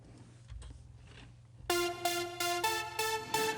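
Bright, crisp top percussion loop in a DJ mix enters after a quiet start, with sharp regular hi-hat hits repeating in a steady rhythm.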